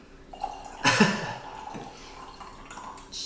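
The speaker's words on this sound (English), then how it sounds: "Oh, you spilled it. You can't waste wine." Friuli Grave Pinot Grigio wine is poured and spilled with a short splashy gush of liquid, surrounded by lighter drips and splatters close up.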